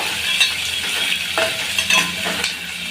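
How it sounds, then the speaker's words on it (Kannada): Garlic fries in a pan with a steady broadband sizzle, broken now and then by soft stirring scrapes, close and alone with no talk. "ಬೆಳ್ಳುಳ್ಳಿ ಎಲ್ಲ ಒಂಚೂರು ಕಲರ್ ಚೇಂಜ್ ಆಗೋವರೆಗೂ ಫ್ರೈ ಮಾಡ್ಕೋಬೇಕು"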